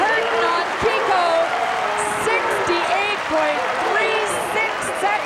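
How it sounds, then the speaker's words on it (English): Crowd at a Spruce Meadows show jumping event cheering and applauding loudly and continuously, a dense roar of clapping and whistles with a commentator's voice running over it. "And the great Canadian crowd goes wild as Kim Curtin on Kiko,"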